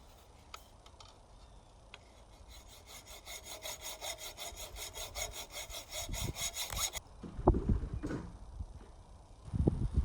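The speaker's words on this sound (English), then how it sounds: "Let's cut this pipe off where it's a little too long." A too-long metal pipe on a homemade culti-packer is cut with a hand saw, quick rhythmic rasping strokes for several seconds, then scraping and knocks as the work shifts; no talk.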